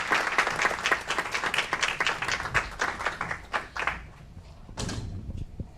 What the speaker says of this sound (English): Another round of applause for the Aurora Youth Council.